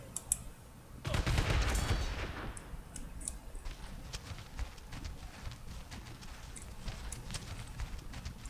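Cannon fire from sailing ships in Sid Meier's Pirates: a loud booming volley rolls out and fades, followed by scattered lighter pops and clatter over quiet background ambience.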